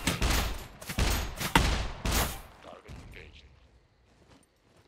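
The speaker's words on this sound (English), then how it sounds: "Who's shooting at me?" Gunfire in the survival video game SCUM: several loud, close bursts of rapid shots in the first half, then fading to faint scattered clicks and mechanical noises.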